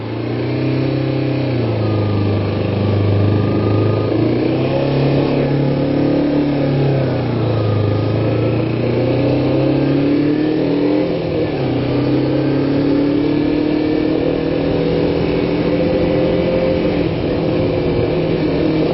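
A Kawasaki Ninja 250 motorcycle engine idles fast and steady after a cold start, its low throbbing hum holding without pause throughout.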